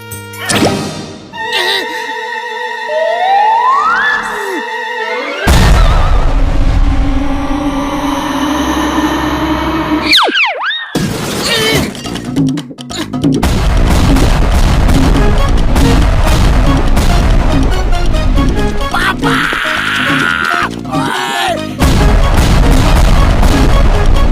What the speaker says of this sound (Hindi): अब बम ब्लास्ट कर दो